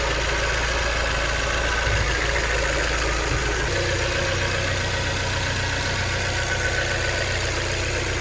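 A Mazda Miata NB engine idles steadily up close, a loud continuous mechanical drone with a slight shift in pitch partway through, with no talking over it.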